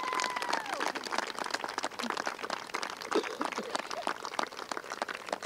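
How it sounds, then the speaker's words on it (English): Audience applause at a 2019 graduation ceremony: dense, steady clapping from a large crowd throughout, moderately distant, with faint voices mixed in. "give a big shout out and round of applause to these people"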